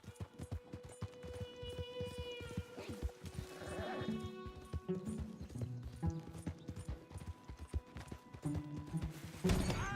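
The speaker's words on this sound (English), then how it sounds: "we're just going to do a little cross-country riding down this slope" A horse in Red Dead Redemption 2 rides cross-country down a slope, its hooves clip-clopping in a steady rhythm, with tack rattling and a whinny and snort near the end.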